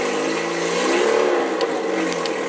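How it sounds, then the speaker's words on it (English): Sun Tracker Party Barge 250 XP3 Regency Edition pontoon boat engine revved in neutral against its rev limiter, a loud, sustained mid-pitched roar that climbs, holds and wavers as the limiter cuts in, with a couple of faint clicks. "It does have a rev limiter, so as I'm revving it up, the computer's keeping it from over revving."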